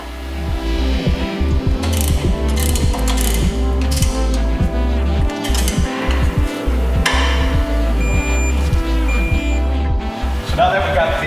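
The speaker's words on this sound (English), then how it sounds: "followed by our M12 bolt, washer, and M12 nut. We're going to torque this down to about 85 foot-pounds." A ratchet torques an M12 bolt and nut down on a Jeep JK track bar bracket, giving loud, close, rapid repeated clicking in quick bursts over a constant mechanical drone.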